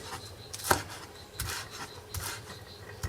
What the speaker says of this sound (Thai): เราก็หั่นต้นหอมนะคะเป็นท่อนๆนะคะไว้ตกแต่ง